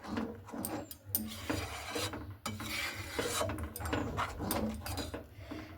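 Thick sago batter is stirred nonstop in a pan on a stove over a low flame, making a quiet, continuous scraping and rubbing with irregular strokes.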